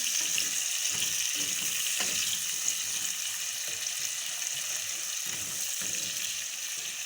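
Onions frying in a pan for a tinda keema dish, with a steady broadband sizzle throughout and faint clinks of stirring underneath. No one speaks.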